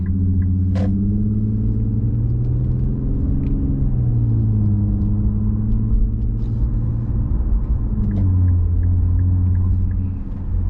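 Low rumbling exhaust note of an Infiniti with a Helmholtz sport exhaust in sport mode, heard from inside the car while driving, a loud steady drone that rises and falls with shifting revs and no talk.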